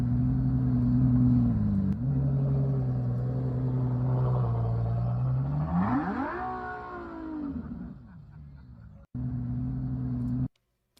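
A car engine rumbles steadily at close range, then rises in a quick rev before settling and cutting out briefly, a deep continuous drone with no voices over it.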